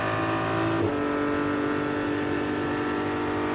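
Race cars at an IMSA endurance race at Watkins Glen, including a Corvette, a Ford Mustang, an orange Lamborghini and a Lexus, roar continuously through the inner loop, with engine pitch shifting as they accelerate, loud and close.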